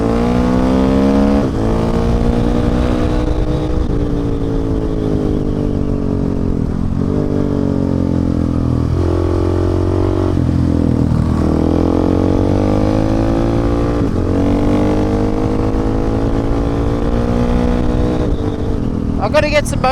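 A 2019 KTM 690 and a Honda Africa Twin riding hard on a tarmac road, loud close engine drone rising and falling through gear changes, with a rider talking over the engine noise throughout.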